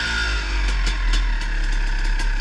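A dirt bike engine runs steadily close by with a retuned, cleaned power valve, holding an even idle with faint rhythmic pulses and no talking.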